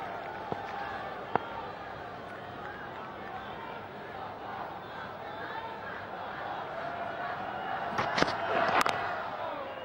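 Crowd murmur at Lord's during a Pakistan vs England one-day cricket match, a broad, steady wash of distant chatter with a few sharp knocks and a brief swell near the end, under commentary.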